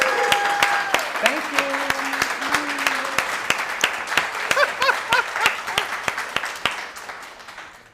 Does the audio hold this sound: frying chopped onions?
no